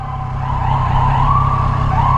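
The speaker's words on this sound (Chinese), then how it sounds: "哪来救护车？" An ambulance siren on a road, a loud continuous wail rising and falling in pitch over steady traffic rumble, close and dominant throughout.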